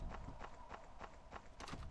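Goat footsteps in the Chupacabras: Night Hunt video game, a quick run of light, regular hoof taps, faint and distant, ending in a brief slightly louder flurry.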